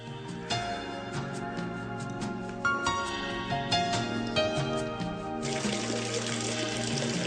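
Water runs steadily through an ancient underground canal at the base of the Eupalinos tunnel aqueduct on Samos, a continuous close rushing and splashing flow with brighter gushes toward the end.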